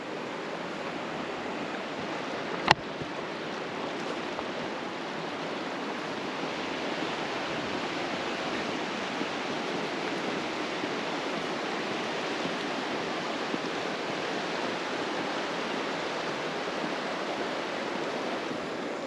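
Creek water runs past a campground in a steady, broadband rush that holds at one level, with a single faint click near the start and no voices.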